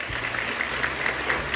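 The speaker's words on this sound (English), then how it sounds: "let's first give a big applause to class 5." Parents at a school assembly applaud class 5 with steady, dense clapping that fills the whole moment without a break; no one speaks over it.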